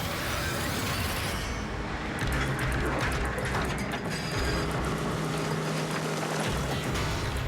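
A giant 800-ton mining digger works at a copper mine, its heavy mechanisms grinding, clanking and ratcheting continuously at a steady loud level.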